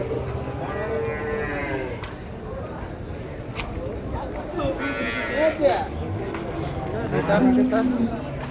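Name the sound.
cattle mooing at a cattle market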